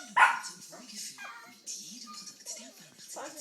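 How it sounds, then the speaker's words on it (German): A single sharp dog bark rings out near the start, followed by softer yips and whimpers mixed with a person talking nearby. "Was tut der Hund, Vogel?"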